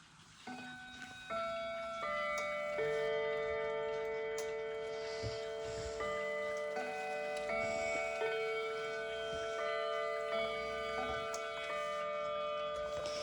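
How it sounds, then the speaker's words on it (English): A Howard Miller mantel clock's chimes ring out in a slow melodic sequence of sustained tones, layered and lingering, with faint ticking beneath, fairly quiet overall. "here's my Howard Miller mantle clock, if you want to hear the chimes"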